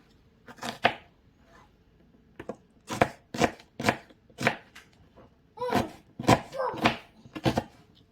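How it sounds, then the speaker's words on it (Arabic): Onion being chopped into small pieces with a knife on a board, sharp close taps in a quick uneven series with short pauses, no talking over it. "وهنا دوك نقطعوا البصل فاني مرصوات غير صغيرين."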